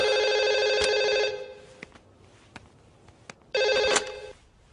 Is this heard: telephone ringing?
yes